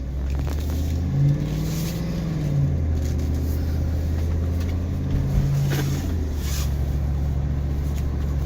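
A car with an automatic transmission drives and accelerates on a test ride, its engine droning steadily and rising and falling with the gear shifts, heard from inside the cabin with no talk.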